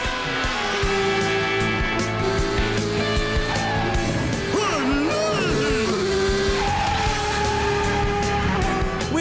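Cartoon race cars speeding and skidding on a track, engines droning loudly throughout, with squealing tire skids and swooping pitch sweeps midway amid layered music and effects.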